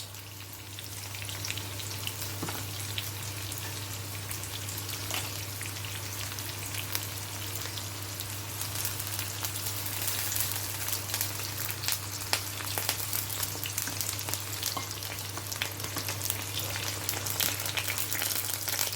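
Tomato with herbs sizzling in a frying pan, a continuous crackling hiss with fine popping over a steady low hum, even and close throughout.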